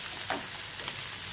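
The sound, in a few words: egg frying in pan for fried rice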